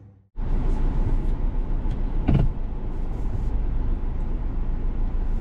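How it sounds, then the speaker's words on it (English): Inside a 2023 Subaru Outback Wilderness, a steady broadband engine and cabin rumble starts abruptly after a brief quiet moment, with a short mechanical whir partway through, continuing loud and even as the car moves off. "So let's get in the car and take it for a drive."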